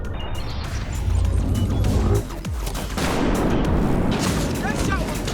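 Heavy gunshots and booming impacts from The Division 2 using a Nemesis rifle build sound loud and close, thick and continuous with crashing hits, while someone talks over them.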